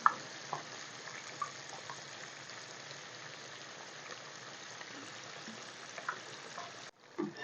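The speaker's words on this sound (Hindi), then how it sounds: "हमने मछली को तकरीबन 5 मिनट के लिए फ्राई करना है" Fish fries in oil with a steady, close crackling sizzle and scattered small pops, continuing without any voices until a brief cut near the end.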